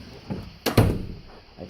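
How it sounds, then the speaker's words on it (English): A door slams in a church room under renovation with one sharp, loud, close bang, after light shuffling and muffled talk. "I did not mean for the door slam."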